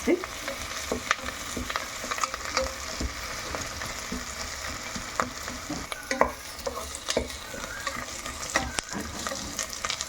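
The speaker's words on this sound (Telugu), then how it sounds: "ఉల్లిపాయ వేగింది" Sliced onions fry in a hot pan for a Konaseema-style mango and coconut curry, giving a continuous crackling sizzle with frequent scraping stirs and small clicks of a ladle throughout.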